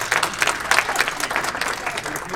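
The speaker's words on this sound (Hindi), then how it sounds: "खवातीन के लिए तालियां।" Audience applauding the women at an Urdu poetry and idiom gathering, a brief burst of dense, close clapping with voices mixed in.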